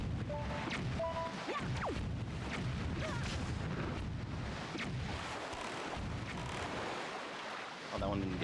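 A sailing boat crosses the open sea in Wind Waker HD, with steady rushing water and wind noise running throughout, broken by a few faint in-game chimes and effects.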